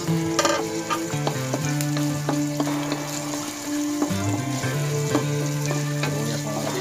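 Garlic and onion fry in a pan for chicken lomi, a loud continuous sizzle with scattered crackles and occasional stirring knocks, close up with a faint background hum and no speech.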